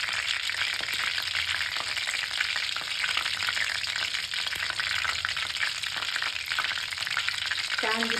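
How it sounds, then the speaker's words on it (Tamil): A soya chunk dropped into hot cooking oil, giving a steady, close, hissing sizzle of frying that carries on evenly throughout. "எண்ணெய் காஞ்சிச்சு இல்லைன்னு ஒன்று மட்டும் போட்டு பார்க்கலாங்க."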